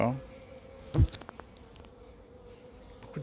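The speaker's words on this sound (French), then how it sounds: "Beaucoup de guêpes." Many wasps buzz around a hive entrance, a steady faint drone with a brief louder close pass near the middle, alone without talk.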